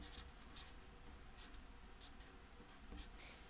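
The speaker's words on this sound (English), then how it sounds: "So we want to write that at the bottom." A pen writes on paper along the bottom of a paper shamrock craft, giving soft, close scratchy strokes in short bursts with brief pauses between them.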